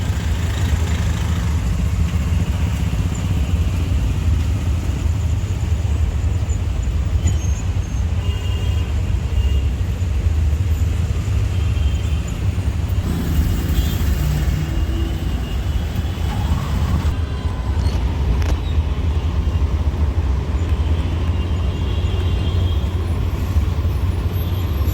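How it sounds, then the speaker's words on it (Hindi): Heavy road traffic on a congested Delhi street, with a steady loud rumble of idling engines and vehicles and occasional air-brake hisses, continuous for the whole stretch with no talk. "रास्ते में हो रही है ट्रैफिक बहुत ज़्यादा"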